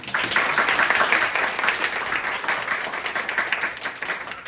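An audience at a university human-library talk concert bursts into warm applause, a thick wash of clapping that swells early and stays lively before easing slightly.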